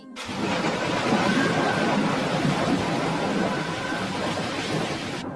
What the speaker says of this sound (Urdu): اللہ تبارک و تعالیٰ کی طرف سے طوفانی ہوائیں چلنے لگیں۔